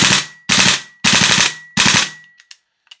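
A DE Ghetto Blaster airsoft gun fitted with a Jaeger recoil buffer and a heavy stainless blowback weight fires four loud, sharp bursts in quick succession, followed by a few faint clicks and rattles.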